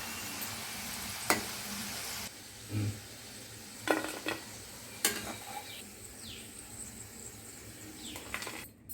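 Okra pakoda deep frying in oil, a soft intermittent sizzle broken by a few sharp clinks and taps of a utensil against the pan, fairly quiet and close.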